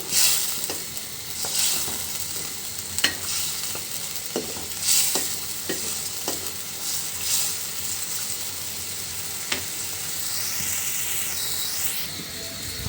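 Fish pieces frying in a pan for a bitter gourd and eggplant curry, a steady sizzle of hot oil with repeated scraping stir strokes at a moderate distance, no voices.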